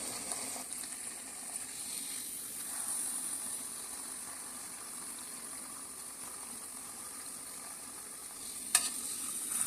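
Potato pakoras fry in hot oil, a continuous even sizzle and faint bubbling held close, steady throughout with one brief clink near the end and no talking.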